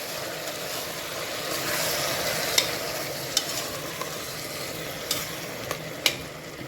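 Masala and yogurt being stirred in a pan for veg pulao, a steady low sizzle with a series of spaced clicks and scrapes of a spoon against the pan, close and without talk.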